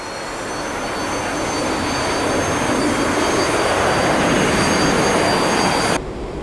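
Engine noise from an A-4E Skyhawk in a flight simulator roars steadily and loudly as a broad, continuous jet whine with faint high tones, holding constant before cutting off abruptly near the end.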